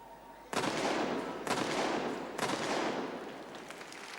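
A field gun fires three times during a 1978 naval field gun competition, each blast loud and sharp at roughly one-second intervals, with long echoing decays blending into crowd noise.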